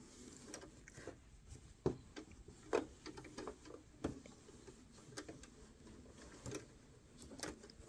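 A sewing machine stitching a hexi-flower sweatshirt, its needle ticking in uneven bursts with sharper clacks now and then, close and moderately loud with no talking.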